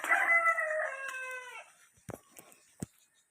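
A rooster crows once, loud and close, near a backyard chicken coop beside a house, its drawn-out call followed by a few short, sharp clucks or knocks.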